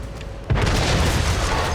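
A tank is destroyed by an explosion in the PS5 game World of Tanks Modern Armor. A sudden loud boom is followed by a sustained, heavy rumbling roar that fills the rest of the moment.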